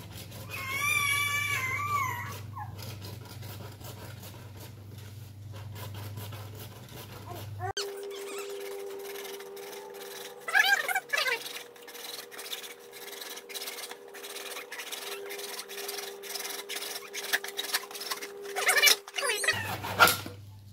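A hacksaw cuts around thin plastic stormwater drain pipe, a close, raspy stream of quick strokes after a loud hum stops partway through, with faint talk at the start.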